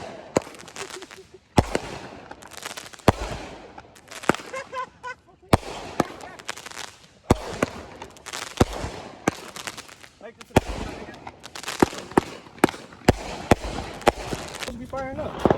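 Fireworks go off outdoors in a rapid, irregular series of sharp cracks and pops, close and loud, while people talk and shout throughout.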